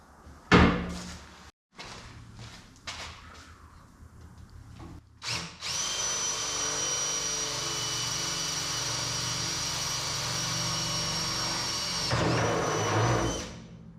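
A power drill with an 1/8 or 3/16 inch bit bites in a few short bursts, then runs in one long steady high-pitched whine as it bores through a steel truck frame before stopping.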